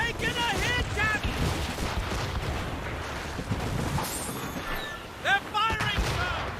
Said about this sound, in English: They're firing! Careful, Cap. Brace! They can fire many volleys.